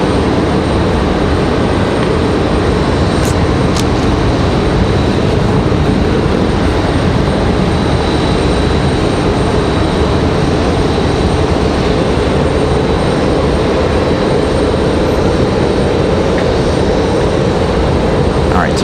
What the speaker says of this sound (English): A321neo coming down the hill here, finally.